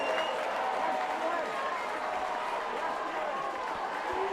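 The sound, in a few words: crowd of USA supporters cheering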